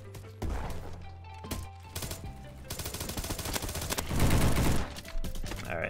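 Rapid FAMAS automatic fire in the Roblox shooter Bad Business comes in loud bursts, with the densest stretch near the end, all over a steady game background.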